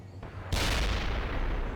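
Battlefield gunfire and artillery from the real-time strategy game World in Conflict: quiet at first, then a sudden heavy burst of dense, sustained shooting and booms that stays loud to the end.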